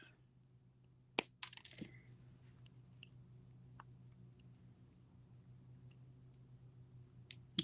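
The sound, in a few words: cutter tool trimming jewelry wire near jump ring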